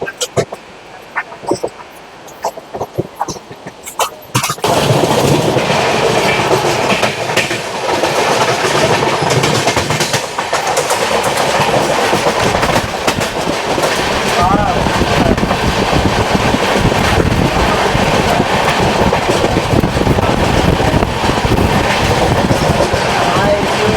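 The 12839 Chennai Mail passenger train from Howrah to Chennai rolls along the rails. After a few quiet seconds with scattered clicks, a loud, sustained rumble with rhythmic clickety-clack fills the rest, with voices heard faintly.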